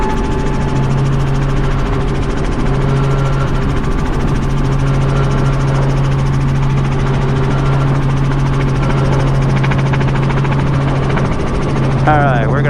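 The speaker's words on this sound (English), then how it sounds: "Cape traffic, helicopter 45 Sierra on final for the helipad," A tour helicopter approaches a helipad at Cocoa Beach, its engine and rotor giving a steady, loud drone that holds throughout with little change, while a voice talks over it.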